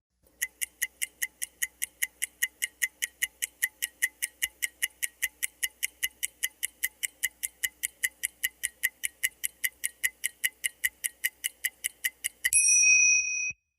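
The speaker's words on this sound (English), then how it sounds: "The clock is ticking." A clock ticks steadily and evenly, a crisp regular beat heard alone for about twelve seconds, then a short ringing ding sounds at the end.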